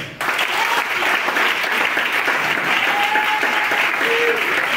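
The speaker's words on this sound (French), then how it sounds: "Si tu es là, acclame le Seigneur." Church congregation applauding the Lord during a worship service, sustained dense clapping from a large crowd that stays steady and loud throughout, with a few faint voices and a brief tone rising above it.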